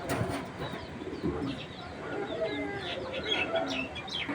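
Racing pigeons from a breeding collection coo and murmur steadily, several birds close by, with a faint voice in the background.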